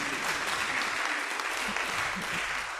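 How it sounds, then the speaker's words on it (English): Steady, dense applause from a conference audience after a presentation, sustained and even throughout with no pauses, filling the room at moderate loudness. "let's give him an applause"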